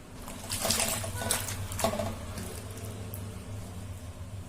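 Water sloshes and trickles as Punarnava greens are washed, swished around and lifted, a few splashy moments early on, then quieter dribbling.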